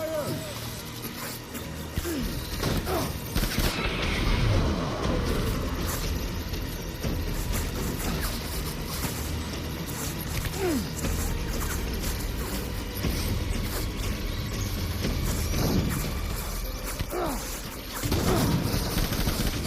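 Rapid bursts of video game gunfire crackle through a busy, noisy mix on a PS5 Pro, with dense overlapping shots and someone speaking over the action.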